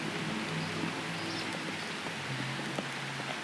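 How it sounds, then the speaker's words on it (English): Light rain falling outdoors makes a soft, steady hiss with faint scattered drops and a few distant chirps, quiet and unbroken throughout. "It just started to rain here"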